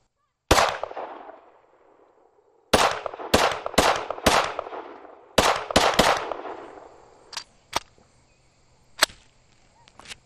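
Glock pistol with an aftermarket trigger firing sharp, loud shots outdoors, one single report then quick bursts of several rounds with short echoing tails, followed by a few fainter pops and clicks.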